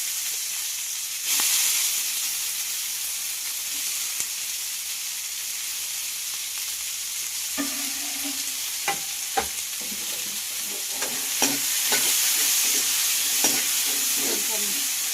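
Cumin and onions sizzling in hot oil for a Telangana-style mutton curry, a steady close hiss with intermittent scraping and clinking as a spoon stirs the pan, no voices.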